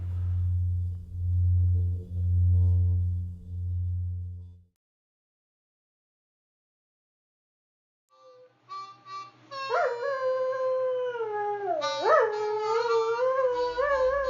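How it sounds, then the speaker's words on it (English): A dog howls along to a harp, long wavering rising and falling howls up close after a pulsing low tone and a silent pause, with faint harp notes beneath. "This is my neighbor Steven's dog, howling to Bob's harp."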